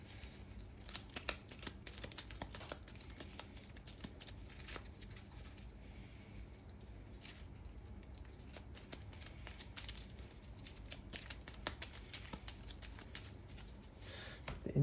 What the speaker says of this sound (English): I'm going to shuffle them a bit more at the top, though, so we get a little bit more Tleilax action.